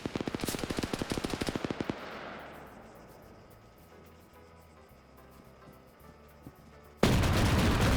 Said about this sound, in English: BMP now panic firing.